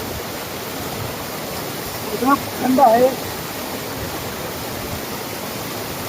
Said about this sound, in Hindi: देखिए गाइस कितना प्यारा झरना आ रहा है